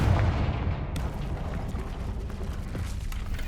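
A Confringo fire spell bursts in the Hogwarts Legacy game, a loud, low rumbling blast with dense crackling debris that stays heavy and sustained throughout with no talk.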